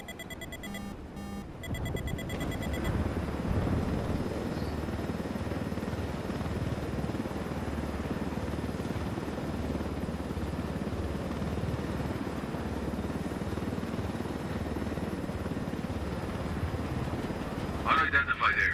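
A helicopter flying low through a canyon in Ghost Recon Wildlands, its rotor drone steady and loud throughout, with brief electronic beeps at the start and end and voices speaking over it.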